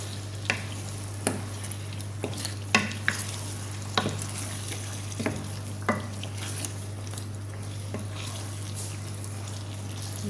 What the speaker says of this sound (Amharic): ይሄው አሁን ዶሯችን እየበሰለልን ነው።